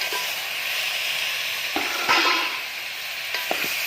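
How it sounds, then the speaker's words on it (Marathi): Country chicken pieces stir-fried in a pan with masala and homemade ground spice paste, a steady close sizzle with a few sharp stirring scrapes and knocks, no voices. "कोंबडीचं चिकन टाकून घेऊया"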